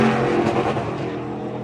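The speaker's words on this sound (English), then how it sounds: "So you hear the cars going down the track." NASCAR race cars roaring past on the track during a driving experience, a loud, continuous engine drone with no talking.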